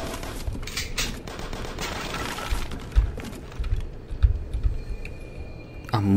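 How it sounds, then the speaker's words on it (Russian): A car shoots fire in the video game Deadly Race, producing rapid crackling bursts of game gunfire and impacts amid busy mechanical clatter, loud and continuous with sharper thumps scattered throughout. "Так, я могу огонь пускать."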